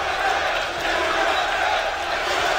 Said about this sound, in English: that small yet admirable pocket of SK fans in a sea of Cloud9 cheering